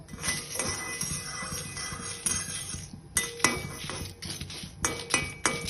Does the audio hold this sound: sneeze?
no